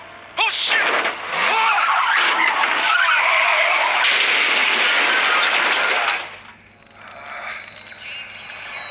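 A truck crashes in the zombie survival game Into The Dead 2, a loud sustained burst of crunching metal, shattering glass and skidding that lasts about six seconds before dropping to a quieter, fading rumble.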